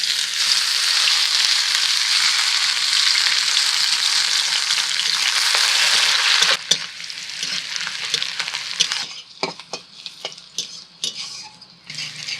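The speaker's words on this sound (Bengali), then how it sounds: "তেলের উপর দিয়ে দিচ্ছি তেজপাতা আর কুচিয়ে রাখা পেঁয়াজ।" Bay leaves and chopped onion fry in hot mustard oil in a wok, a loud dense sizzle that drops to a lighter crackle partway through, followed by scattered scraping and stirring clatter.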